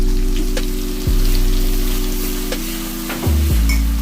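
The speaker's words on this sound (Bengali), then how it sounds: "ভালো করে এবার মশলাটা কষাতে হবে" A ground paste of onion, ginger and garlic fries in hot oil for a crab curry, giving a steady, loud sizzle with a few soft stirring scrapes and little pops. No one talks over it.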